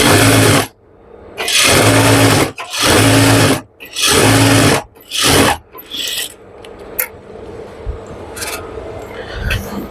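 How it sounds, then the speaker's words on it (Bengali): A sewing machine runs in five distinct bursts while stitching a pajama seam, each a loud, whirring run of about a second separated by short pauses, followed by quieter handling and rustling of fabric. "এখানে একটা চাপ সেলাই বসিয়ে দেব তাহলে আমাদের সেলাইটা বসে যাবে একবারে"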